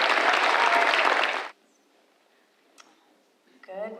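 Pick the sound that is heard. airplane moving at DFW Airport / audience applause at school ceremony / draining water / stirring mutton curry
audience applause at school ceremony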